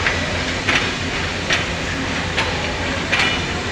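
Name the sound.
train running past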